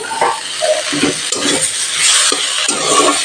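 Chopped tomato frying in a pan with ginger, garlic and chilli for an egg curry: a loud, close sizzle with a few brief stirring scrapes and no talk.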